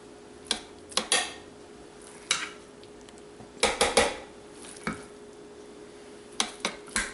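Roasted pumpkin scooped with a spoon into a food processor bowl in a home kitchen, giving irregular sharp clinks and knocks up close, some in quick pairs, with quiet gaps between and no talking.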